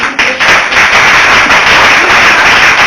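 Audience applauding at a preaching event, dense crackling claps from many people, loud and sustained throughout.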